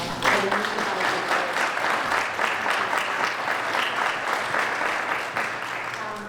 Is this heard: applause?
yes